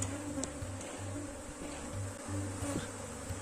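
Honeybees buzzing around an open hive with drawn wax frames, a steady close insect drone with a low hum and occasional individual bees whizzing past, no voices.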